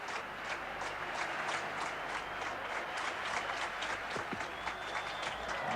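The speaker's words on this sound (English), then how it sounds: "Crowd clapping, urging the man." A stadium crowd at the 1987 World Championships men's long jump claps in a steady rhythmic beat to urge on a jumper, the dense applause filling the arena, with a faint commentary voice beneath it.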